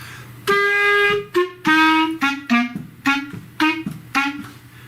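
A clarinet plays a short descending melody of separate notes from a Deck the Halls arrangement, clear and close, with no one speaking.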